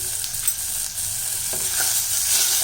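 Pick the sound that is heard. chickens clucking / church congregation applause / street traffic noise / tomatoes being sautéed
tomatoes being sautéed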